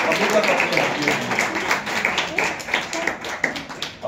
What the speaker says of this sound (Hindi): उनके लिए भी हम जोरदार तालियां बजाते हैं